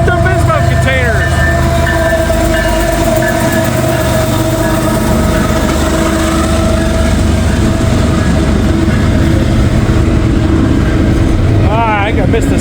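Norfolk Southern freight train rolling past in wet snow, a steady loud rumble of cars with rail noise throughout, with brief voices over it.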